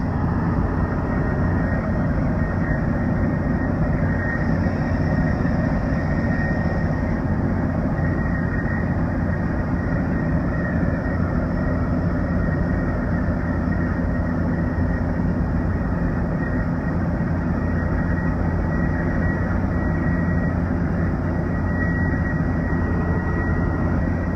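A turbocharged 12V Cummins diesel pulling at 90% throttle with about 47 psi of boost, a steady, loud, droning engine roar with turbo whine that holds unbroken throughout, with no talking.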